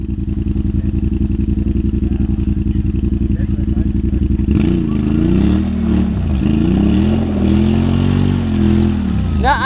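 Honda Pioneer 500 UTV with a long-travel kit, its engine chugging steadily in low gear and then revving up and down repeatedly while stuck in mud, loud and close with people talking.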